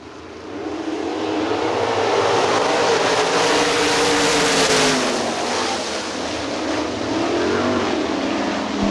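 Sprint cars race on the dirt oval at Hartford Speedway Park, their engines blending into one sustained, loud roar that swells slightly as the pack passes.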